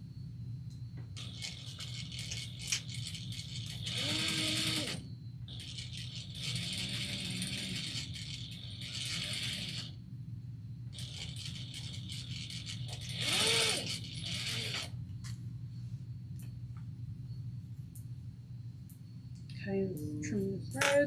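A sewing machine stitches a shoulder bag seam at a 3/8 inch allowance in several bursts of rapid, even mechanical whirring, separated by quiet pauses, close and fairly soft, with no talk.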